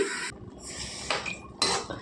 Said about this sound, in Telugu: మగ్గు పెట్టుకుందామండి మూత పెట్టి